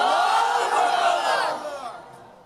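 A large crowd at an outdoor religious sermon in Cumilla roars a takbir in unison, a loud sustained collective shout that swells and then fades away over a couple of seconds.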